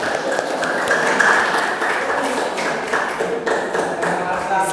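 Students in a classroom applaud together, a steady dense wash of clapping with a faint tapping mixed in, held at an even level throughout.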